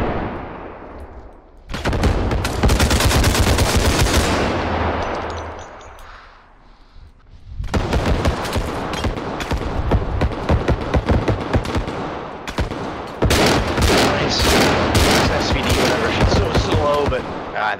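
Loud, dense shotgun and automatic gunfire in a free-for-all match of a realistic FPS video game, coming in long rapid bursts with a short lull near the middle, with some talk mixed in.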